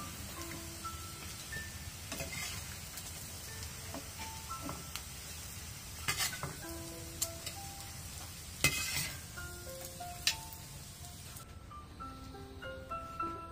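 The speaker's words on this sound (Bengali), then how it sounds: "ভালো করে উল্টে পাল্টে দুই পাশ ভেজে নিতে হবে।" Beef tripe tikka patties fry in a pan, a quiet steady sizzle with scattered clinks and scrapes of a utensil against the pan, faint and close, with soft background music.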